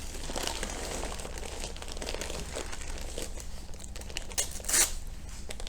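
Peony stems being wrapped tightly in paper or plastic sheeting, giving a steady close crinkling and rustling throughout with a louder crackle near the end.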